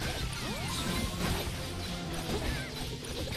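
A crash into a snowman while sliding in a Minion mobile game's polar expedition level, a busy loud smash with clattering debris over continuous game music and effects.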